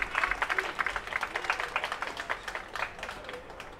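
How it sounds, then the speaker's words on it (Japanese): A modest crowd at a Japan–Korea exchange basketball game claps for an MIP award winner. The applause is brief and uneven, with distinct individual claps at medium distance. "今一度大きな拍手をお願いいたします"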